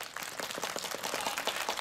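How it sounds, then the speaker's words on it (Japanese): Kindergarten children clapping together in applause, a dense, steady patter of many small hands sustained throughout without pause. "はい、拍手。"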